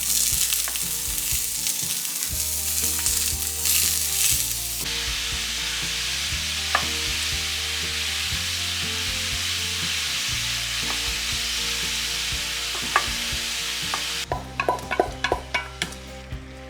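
A sausage and pepper mixture fries in a pan with a loud, continuous sizzle and crackle, heard close up. Stirring scrapes come through, and a few sharp taps sound near the end.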